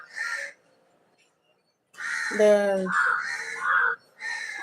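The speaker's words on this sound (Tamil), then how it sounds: "நான் எப்ப பேச ஆரம்பிச்சேன் காக்கா கத்த ஆரம்பிச்சேன்" A crow caws close by in a quick run of harsh, stacked calls, set between stretches of a person talking.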